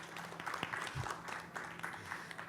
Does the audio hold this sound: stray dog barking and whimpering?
no